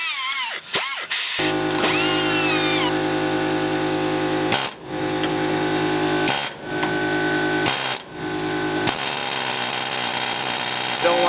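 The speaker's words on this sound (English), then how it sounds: "I'm going to clean this up a little bit with my cut-off wheel before I try punching it out." A cut-off wheel grinds an old leaf spring shackle flush during a leaf spring hanger replacement: a loud, steady, high-pitched whine that runs almost continuously, dipping briefly a few times as the wheel lifts off the metal.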